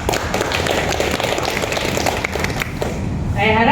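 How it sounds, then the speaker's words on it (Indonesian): An assembled faculty audience claps together at a morning assembly, a steady, dense wash of applause running throughout, with a brief voice or tone near the end. "Tepuk tangan lagi."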